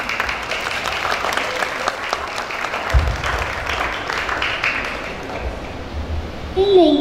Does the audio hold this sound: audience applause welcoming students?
yes